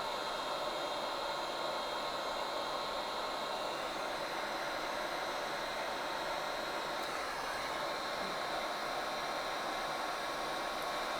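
A heat gun blows a constant, even roar of hot air while shrinking heat shrink tubing onto an Apple USB to 3.5mm dongle, loud and close, with no pauses or talk.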